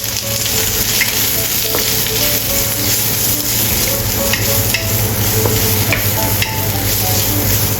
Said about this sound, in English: Stir-fry onion.